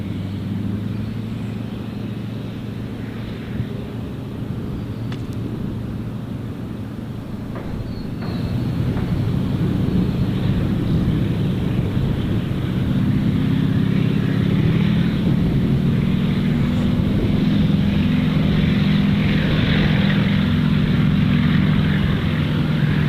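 A propeller aircraft takes off at Gold Coast Airport, its steady engine drone swelling louder partway through and holding a strong, continuous roar with no talking.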